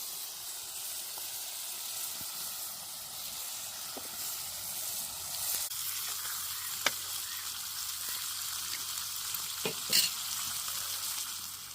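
Fish frying in a pan: a steady, close sizzle and hiss runs throughout, with a few faint clicks and taps over it and no talking.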